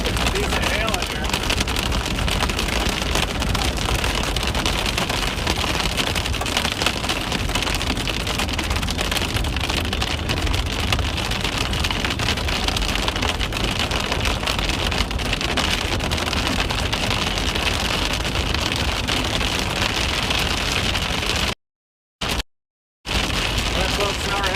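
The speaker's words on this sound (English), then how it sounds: "Decent hail in here." Hail and heavy rain pound a storm-chasing car during a severe storm in eastern Colorado and the Oklahoma Panhandle, a dense, constant drumming on the vehicle with occasional talk inside.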